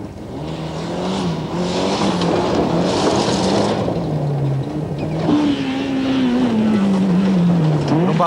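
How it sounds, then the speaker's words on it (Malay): Mitsubishi Galant VR4 rally car at Round 4 of the 1992 Malaysian Rally Championship, its engine loud and close, rising and falling in pitch through gear changes and acceleration, with crowd noise mixed in underneath. "memandu kereta Mitsubishi Galant VR4"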